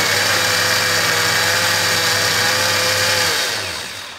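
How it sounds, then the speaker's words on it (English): A blender whirs steadily while pulping soaked paper into soft mush for homemade papermaking, its loud continuous motor drone holding even for about three seconds before tapering off. "sit it on the blender base and turn it on for about 30 seconds"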